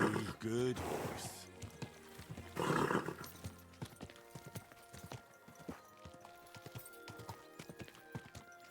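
Rhythmic hoofbeats from a horse in the medieval game Kingdom Come 2, opening with short bursts of neighing and snorting, then settling into a steady clip-clop under faint music.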